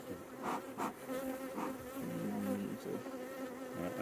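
Honeybees swarm around an opened beehive during an inspection, a dense steady buzzing that fills the space close to the microphone, with individual bees droning louder as they pass near.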